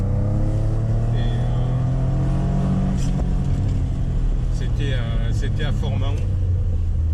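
A Renault Alpine GTA V6 revs hard in second gear at a car gathering in Fort-Mahon, a steady engine drone climbing high under continuous talk, with other voices briefly audible.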